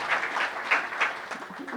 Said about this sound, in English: we'll still give her an applause